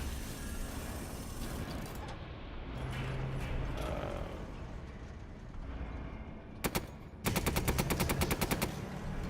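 Cannon blasts and machine gun fire from a tank sequence in Resident Evil 8, with rumbling battle noise giving way to a loud, rapid burst of automatic gunfire near the end.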